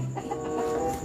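A chicken clucks in short, repeated calls close by, with a steady background hum and no speech.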